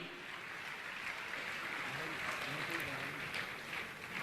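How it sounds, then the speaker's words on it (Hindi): Audience applause at an honouring ceremony during a Jain spiritual discourse, a continuous broadband patter of many hands that holds steady throughout, with some voices mixed in. "आपकी तालियां जोरदार बजनी चाहिए"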